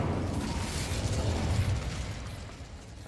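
A rumbling burst of fire from the Incendio spell in Hogwarts Legacy, loud and dense at first, then fading over a few seconds without any talk.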